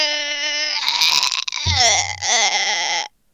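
A person imitates a goat's bleat, a loud, wavering nasal cry lasting about three seconds, with voices cutting in partway through.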